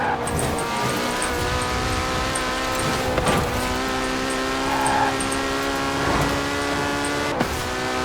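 Porsche 918 hypercar engine in Forza Horizon 4, a steady loud high-revving whine with layered harmonics, shifting pitch through gear changes and brief tire squeal as it races, continuous throughout.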